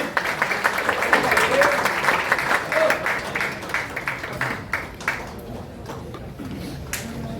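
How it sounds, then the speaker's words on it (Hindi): Applause and cheering rise for Naik Deepchand at a ceremony honouring the families of fallen soldiers, with a steady wash of claps that fades slightly toward the end while voices murmur underneath. "नायक दीपचंद जी साहब के लिए जोरदार तालियां।"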